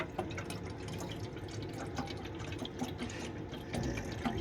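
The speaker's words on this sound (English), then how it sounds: "Obviously, we'll put some water in there." Fridge water pours steadily into a container inside a van parked in London, giving a continuous trickling, splashing stream heard close and alone for several seconds.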